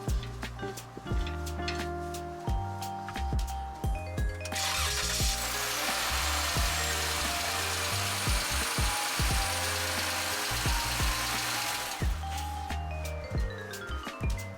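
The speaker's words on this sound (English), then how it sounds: "Then remove the wheel lug nut holding the rotor." A ratchet and power tool work a front wheel lug nut off a 2011-2014 Dodge Charger during a brake job, with rapid clicking bursts, a long continuous whir in the middle, then more clicking close by.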